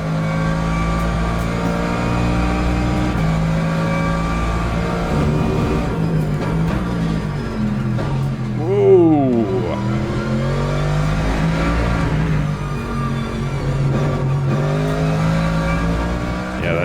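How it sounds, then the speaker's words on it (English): A sim racing game GT3 car's V8 engine gives a loud, continuous roar with a high transmission whine layered on top, revving up and down through shifts without pause. "Transmission whine is beautiful, layered on top of that roaring V8 engine."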